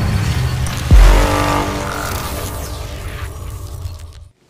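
A 2023 Tesla Model Y rear-wheel-drive electric car accelerating hard, its motor rising to a sustained roar with a brief loud thump early on, fading out abruptly at the end.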